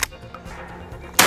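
A 12 gauge Scorpion sawn-off less-lethal shotgun fires twice, a sharp blast at the start and another just over a second later, both loud and close with a quiet gap between them.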